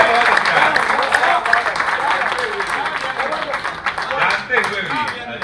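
Listeners at a comic poetry recital applaud a humorous poet, with lively clapping that swells and dips in uneven waves, fairly close and moderately loud, while voices murmur underneath.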